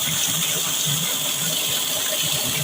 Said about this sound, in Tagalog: So, ayan. Lakas ng tubig.